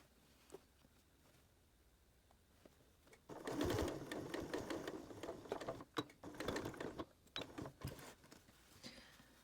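A sewing machine stitches bias tape onto a hot pot lid holder, its motor whirring in a steady, close run of rapid stitches that starts after a few quiet seconds and stops and restarts in short bursts.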